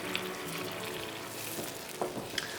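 Butter melting in a pan with onion and thyme for a savory tart crust, giving a faint, soft crackling sizzle with a few small pops, no talk.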